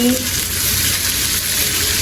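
Loud, steady sizzling as a little water hits onions and spices frying in a pan, a continuous hiss with no pauses from start to end, close to the pan.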